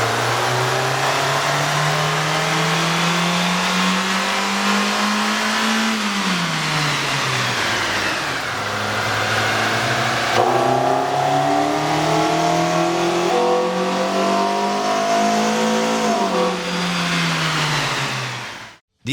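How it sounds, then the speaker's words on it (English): A Kia Soul 2.0L fitted with an aftermarket air intake revs hard on a dyno, the loud engine note climbing, easing and climbing again in long steady sweeps before cutting off abruptly at the end. "we ran the vehicle on the dyno to test the sound comparison versus the stock intake"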